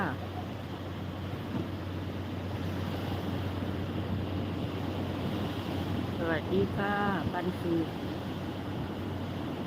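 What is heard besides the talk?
sea waves and strong sea wind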